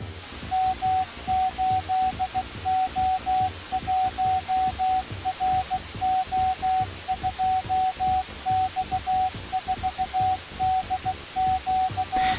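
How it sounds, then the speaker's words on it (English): A steady Morse code tone beeps in fast dot-dash bursts on one pitch throughout, over a dense bed of static, hum and low throbbing noise, loud and continuous with no voices. "Morse code plays."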